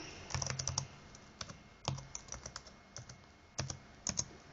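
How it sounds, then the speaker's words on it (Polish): A password typed on a computer keyboard, quiet, close key clicks coming in short bursts of several presses separated by brief pauses, with no talking. "Ok, piszę hasło."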